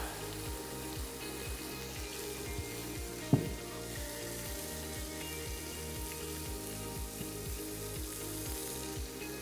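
Burger buns frying in neutral avocado oil on a hot surface, a steady close sizzle running throughout with faint regular ticking and one brief sharp clink partway through; no voices.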